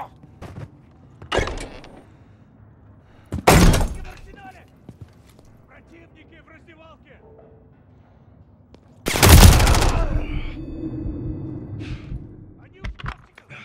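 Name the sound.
gunfire in the video game Call of Duty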